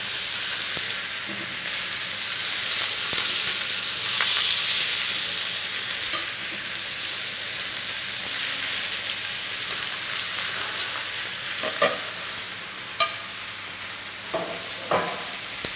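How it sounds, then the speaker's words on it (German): Ox cheek trimmings searing in a hot frying pan, a continuous bright sizzle with occasional stirring scrapes and pops, close and steady with no talk. "Die tun wir auch schön scharf anbraten"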